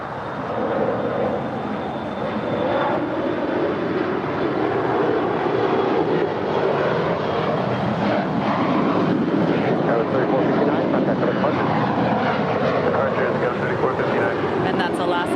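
An Alaska SkyWest Embraer 175LR jet departs Los Angeles for San Francisco, a loud, steady broadband engine roar that swells slightly and holds throughout, with voices talking over it.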